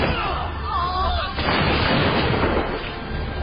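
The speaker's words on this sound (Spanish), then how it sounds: "Preparan sus fusiles Browsbecks y disparan contra los colonos." British soldiers fire Brown Bess muskets at colonists on an American Revolutionary War battlefield, a dense burst of gunfire cracking under a continuous rumble, with the volley sharpening partway through.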